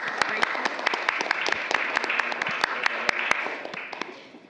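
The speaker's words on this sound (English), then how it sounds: "Round of applause for the kids" Applause for schoolchildren at a school committee meeting: a steady crowd of many hands clapping through the whole stretch, with sharper individual claps standing out, slowly fading toward the end.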